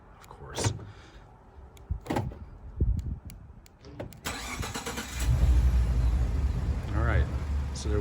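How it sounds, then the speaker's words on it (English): Several sharp clicks and thumps, then a 2014 Ford F-150 engine cranks and catches via factory remote start, settling into a steady low rumble with a voice briefly over it. "hit the remote start button twice"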